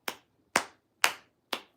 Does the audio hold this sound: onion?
no